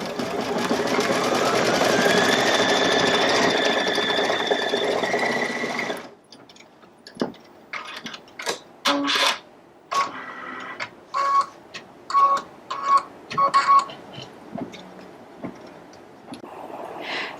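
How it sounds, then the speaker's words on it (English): An embroidery machine stitches heart placement lines for a Valentine's table runner, running as a steady close whir for several seconds, then stopping and giving way to a series of short, separate stitching bursts with pauses between them. "it's going to stitch out the placement for the 2 hearts inside each border"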